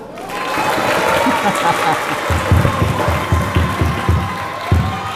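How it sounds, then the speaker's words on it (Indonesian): Audience applause at an Islamic religious sermon gathering, a sustained crowd clapping with strong rhythmic unison beats emerging partway through, loud and continuous with voices faintly mixed in. "Ya Allah, tepuk tangan nggak?"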